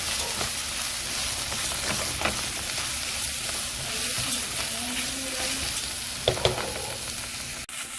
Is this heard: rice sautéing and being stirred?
yes